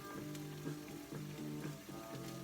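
Oil sizzles steadily in a frying pan of homemade home fries, with a continuous crackling hiss and faint stirring scrapes recurring every half second or so, close up and alone without talk.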